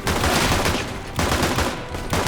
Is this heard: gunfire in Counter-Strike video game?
yes